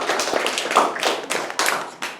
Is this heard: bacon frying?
no